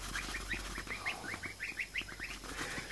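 Geese and goslings give a run of quick, faint peeping calls, about a dozen in rapid succession at moderate distance, with no talking.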